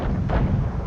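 A single heavy boom of artillery fire in a tank video game featuring the T29, a short, loud, rumbling blast with no talking.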